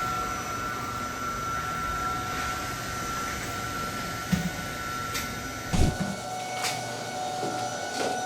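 Steady machinery hum from a gear machining machine running on a factory floor at a precision gear maker, with a few short clanks and knocks near the end.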